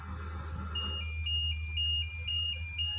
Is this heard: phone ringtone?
yes